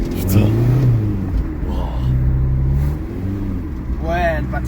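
A car engine revs hard with a slipping clutch, its pitch sliding up and down in long surging whines, loud and near, while someone talks over it.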